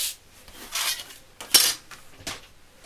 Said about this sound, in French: avec le massicot